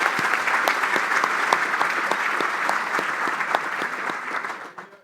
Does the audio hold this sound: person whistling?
no